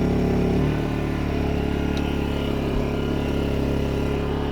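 A new 2000 W portable generator runs under load on a boat, powering a milk frother and a Nespresso machine, giving a steady, loud, close engine drone with an even hum throughout and no talk.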